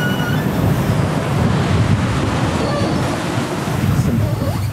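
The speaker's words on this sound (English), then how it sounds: "some fun waves we're getting now." Ocean waves wash against a sailboat under way on open sea, a loud, continuous rushing surge with wind noise blowing across the microphone.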